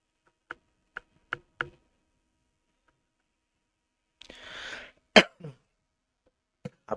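Several short, dry coughs and throat clearings, spaced apart, with a breathy rasp in the middle; close and fairly quiet, no talk.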